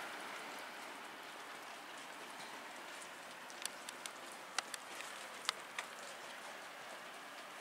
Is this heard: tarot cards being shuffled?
no